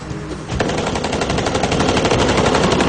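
Rapid automatic gunfire from a rifle in a recreated North Hollywood bank shootout, a sustained loud burst of closely spaced shots that starts after a brief lull and continues without pause.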